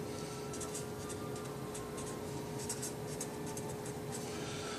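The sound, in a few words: writing on paper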